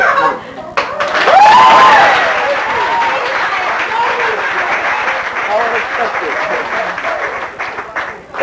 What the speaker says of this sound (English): you'll want to applaud